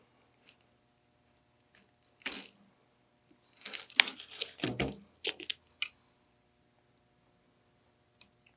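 Vent window weatherstrip being cut and pulled free, a string of close crinkly rubber crunches and snips in a burst, with scattered faint ticks before and after.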